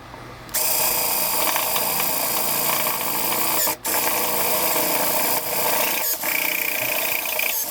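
A power drill fitted with a 5mm bit runs almost continuously, a loud and steady whirring drone with a brief dip partway through. No one speaks.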